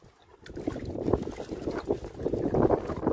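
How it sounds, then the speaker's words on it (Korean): Wind blowing steadily across the microphone outdoors, a low rushing rumble that swells and gusts slightly, with no voices. "아, 이렇 바람이 살살 불기 시작합니다."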